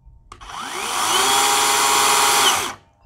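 A loud, steady motorized whine revs up and holds for a couple of seconds before cutting off, a WORX 40V 14-inch electric chainsaw running hard through wood.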